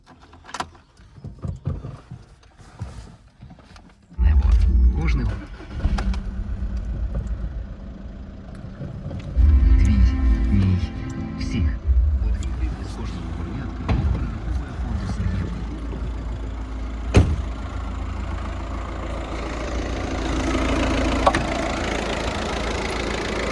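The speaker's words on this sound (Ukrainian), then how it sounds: "Зараз заведу мотор." Skoda Octavia A5 2006 with the 1.9 TDI 77 kW diesel engine starts after a few seconds and settles into a steady, close idle, with a faint click and a brief rise later on.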